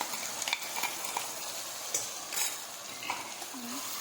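Tomato-onion gravy is poured and stirred into garlic frying in a pan for a dry tuvar dish, a soft sizzle with light scrapes and clinks of a spoon against the pan, close and fairly quiet.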